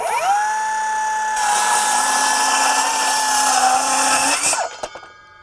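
A Metabo HPT 18V MultiVolt 7-1/4-inch cordless circular saw in silent mode whines up steadily, then bites into a bevel cut with a louder, rougher grinding tone for about three seconds before spinning down and clattering to a stop.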